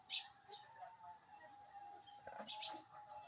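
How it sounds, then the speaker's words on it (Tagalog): A bird gives a few short, thin chirps over a rice field, faint and distant against steady insect buzzing and a high whine, with quiet open-air background. "Woo, yung ibon."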